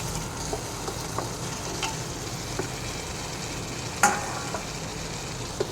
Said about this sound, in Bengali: এবার আলুটা দিয়ে মশলার সাথে ভালো করে আবারও কষিয়ে নেব।